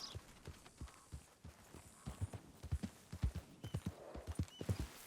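Horse hooves in Red Dead Redemption 2 clip-clop in a steady walking rhythm, close and fairly quiet over a low hum.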